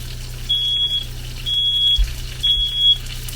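A kitchen smoke alarm in an RV goes off during cooking, giving three sharp high-pitched beeps at regular intervals over a faint background hiss.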